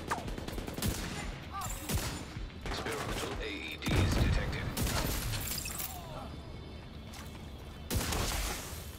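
Exotic weapon firing in The Division video game, sharp gunshot bursts and shattering impacts spread across the stretch, with a heavy boom near the middle and someone talking over the action.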